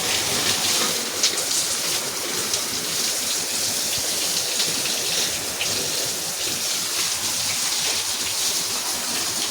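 Water pours and splashes steadily while cows are being bathed. The gushing continues without a break for nearly ten seconds and is loud and close.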